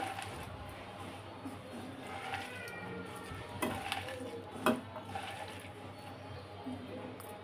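Sliced onion and potato being mixed together in a bowl by hand for a small-fish village-style recipe; soft, irregular squelching and rustling, fairly quiet, with a few louder clinks.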